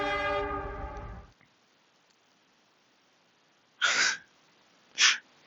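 A mechanical export train in the video game Workers & Resources sounds a brief loud horn that cuts off abruptly. After a stretch of near silence come two short hissing bursts.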